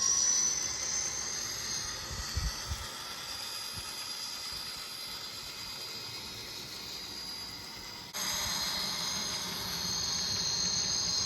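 A steady, broad rumble of a freight train running continuously, with a slight shift in tone partway through and no voices.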